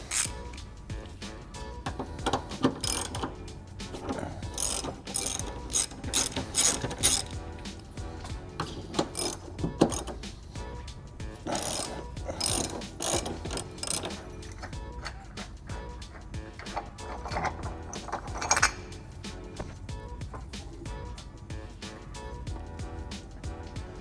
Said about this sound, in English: I've got a jack stand here to help ease the subframe down as I remove the bolts